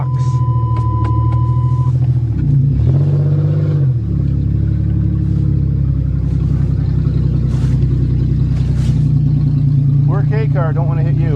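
A fuel-injected Pontiac or Chevy engine runs after a cold start, a loud steady rumble close by with a short change in pitch early on and some faint background noises.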